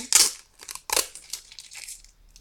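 Crackly tearing and crinkling as adhesive tape is pulled off a Pokémon card booster pack, a few sharp rips close by followed by softer rustles.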